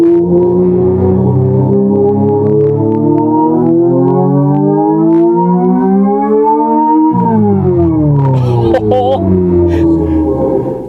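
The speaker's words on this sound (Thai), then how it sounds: "เสียงแรกนะครับ ฟิวเจอร์คาร์นะครับ มาฟังกันนะครับ จังหวะที่เราเหยียบคันเร่งนะครับ" A THOR EV electric vehicle playing its 'Future Car' synthetic sound effect as the accelerator is pressed: a loud siren-like tone that rises slowly in pitch, drops sharply, then climbs again, with some faint clicks near the end.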